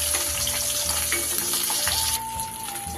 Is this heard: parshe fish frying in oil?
yes